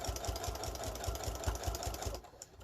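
A sewing machine stitches in the ditch along black quilt binding, a fast even thumping of the needle running close and steady before stopping near the end.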